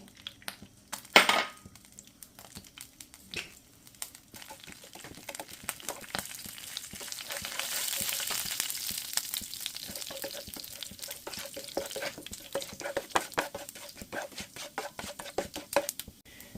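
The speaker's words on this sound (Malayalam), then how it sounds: "ഈ ചൂടായിട്ടുള്ള എണ്ണയിലേക്ക് നമ്മൾ പെരിഞ്ജീരകം 1/2 സ്പൂൺ നമ്മൾ ആദ്യം മിക്സ് ചെയ്യുന്നു" Half a spoon of fennel seeds dropped into hot oil for an egg roast, first a sharp clatter, then a faint sizzle that builds and holds with scattered small crackles.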